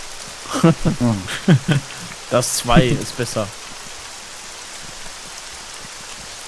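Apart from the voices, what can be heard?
rain in the video game Arma 3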